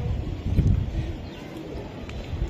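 A teddy pigeon coos in low, soft, throaty murmurs, close by and fairly loud, with a rolling, bubbling quality over a background murmur.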